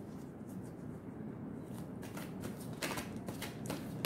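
Tarot cards are shuffled and flipped in a soft, continuous riffling with brief crisp snaps near the end, close and quiet with no talk.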